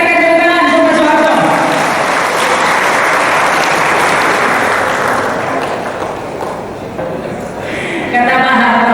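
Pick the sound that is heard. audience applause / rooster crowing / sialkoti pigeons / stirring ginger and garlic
audience applause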